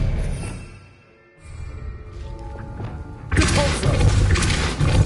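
A disarming spell cast in the video game Hogwarts Legacy bursts out as a loud, dense, noisy whoosh partway through, following quieter game ambience and a brief dull thud.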